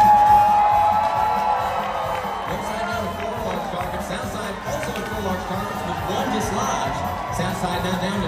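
An arena crowd cheering during a Cowboy Joust show at the Dolly Parton Stampede dinner theater in Pigeon Forge, Tennessee: a sustained, fairly distant roar of voices and whoops, with an announcer's amplified voice carrying over it.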